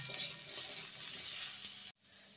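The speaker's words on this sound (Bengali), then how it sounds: "ভালো করে নেড়ে নেব আবারও।" Vegetables for nabaratna polao sizzle faintly in a pan with a steady hiss and a few soft stirring touches before the sound cuts off abruptly near the end.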